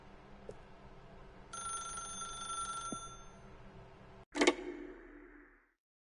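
An old-style telephone bell rings in The Stanley Parable, a video game, as one sustained electronic trill over a quiet ambient hum, ending in a loud clatter as the handset is picked up.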